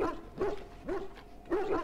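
Dog barking in the video game Dragon Age: Origins, a few distinct close barks in an uneven rhythm spread over two seconds, with no talk over them.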